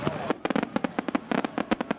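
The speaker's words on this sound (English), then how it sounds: "fireworks going off after the ceremony where family and friends watched the Hannibal High School class of 2021 have their moment tonight" Fireworks go off after the Hannibal High School class of 2021 graduation ceremony, a dense, loud run of sharp cracks and pops fired in quick irregular bursts.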